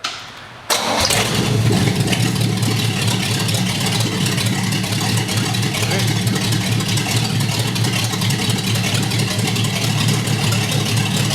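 An engine mounted on an old truck frame mock-up cranks and catches abruptly, then settles into a loud, steady running roar close by, with slight fluctuations in revs and no talking over it.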